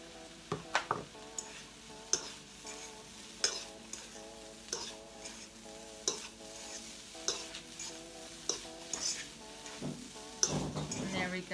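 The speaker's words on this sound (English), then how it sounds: "now we're going to put in all of our bean sprouts and then mix this up into the ingredients that we have" Bean sprouts stirred into sizzling shrimp pad thai in a pan, a steady sizzle punctuated by regular sharp utensil scrapes and clacks against the metal, close and moderately loud.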